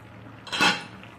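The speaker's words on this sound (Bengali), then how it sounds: "তাই যে ঢাকনা খুলে এখন দেখবো" A single brief metallic clink of a lid being lifted off a pot of tomatoes simmering in a little water, heard against a low background hum.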